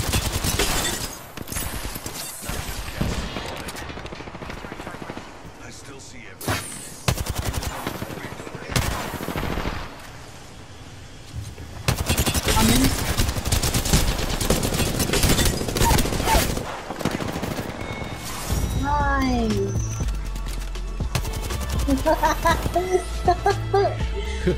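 Video game gunfire in Apex Legends crackles in repeated bursts of rapid automatic shots and single cracks, loud and close, broken by short quieter gaps, with voices talking over parts of the action.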